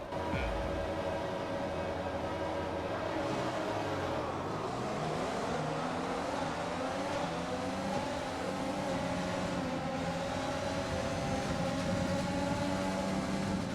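Race cars roar off the grid at the start of the French Grand Prix at Le Castellet in F1 2020, a dense, continuous engine drone with pitches climbing as the field accelerates.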